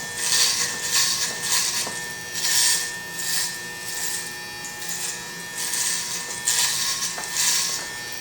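Electric hair clippers fitted with a 1/4 inch blade cut hair during a square-hairline barber cut, a steady close buzz that swells and dips in repeated strokes, with no talk.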